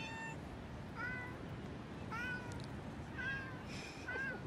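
Several street cats in Netanya, Israel meow in turn, giving about four or five clear, fairly close calls over steady outdoor background noise.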